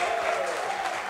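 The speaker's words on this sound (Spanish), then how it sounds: "Fuerte el aplauso, gracias" A studio audience at a comedy variety show claps in a short, full burst of applause, with a faint musical tone running underneath.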